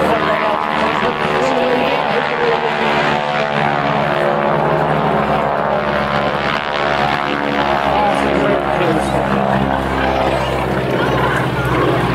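Display aircraft flying passes at the Clacton Air Show 2014, a steady loud engine roar sustained throughout under continuous commentary from a man.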